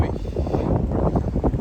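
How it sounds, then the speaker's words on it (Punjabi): Wind gusts across the open deck of a BC Ferries vessel near Victoria, a steady loud rushing roar buffeting the microphone close up, with no talk. "ਹਵਾ ਚੱਲਣ ਲੱਗ ਗਈ ਆ ਪੂਰੀ।"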